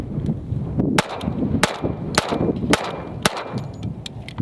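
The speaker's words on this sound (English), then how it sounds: "I'm going to shoot 5 rounds through the standard Emissary before we move on to the chunk ported optic cut one" A 1911 pistol fitted with an Atibal CRD optic fires five rounds in a steady rhythm at about half-second gaps, each shot a loud sharp crack with ringing tail, outdoors at a range with no talk.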